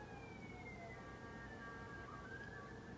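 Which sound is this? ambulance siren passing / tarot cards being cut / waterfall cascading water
ambulance siren passing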